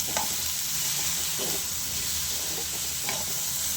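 Ivy gourd frying in a pan over a medium flame gives a steady, close sizzle throughout, with a few brief scraping stirs breaking through.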